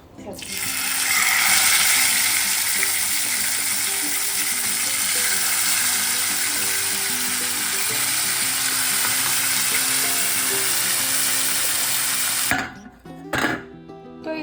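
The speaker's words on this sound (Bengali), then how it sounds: "এই যে মাছটা এখন ম্যারিনেট করে রাখ করা ছিল এটাকে এখন ফ্রাই করে নিব" Marinated pomfret sizzles steadily in a frying pan, a loud, continuous crackle and spatter that holds for about twelve seconds, then cuts off abruptly with a few brief stirring and clattering knocks at the end.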